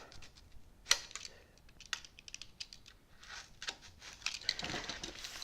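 A blade cuts model airplane foam along a straight edge, making faint, close, scratchy crackles and light squeaks in uneven strokes, with a few sharper ticks and no voices.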